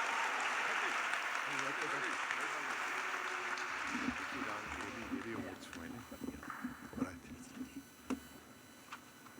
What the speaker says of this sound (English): Before I hand over the mic to Dr. Lawrence, can we please give him a round of applause on his birthday today